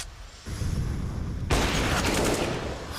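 Rapid rifle gunfire rattles through a Counter-Strike: Global Offensive match on the Mirage map, with dense bursts of shots that grow louder and sharper halfway through.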